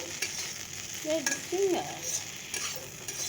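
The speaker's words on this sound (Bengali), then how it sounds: "একটু ভেন্ডি ভাজা করে নিলাম" Okra (bhindi) sizzles steadily as it fries in a pan, with a few brief scraping stirs of a spatula over the continuous hiss.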